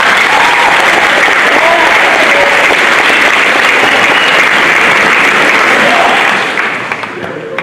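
A school audience at a 2021 senior class night award ceremony bursts into loud, dense clapping that holds steady for several seconds, then fades away near the end.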